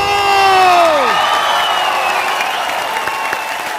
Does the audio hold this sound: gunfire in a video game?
no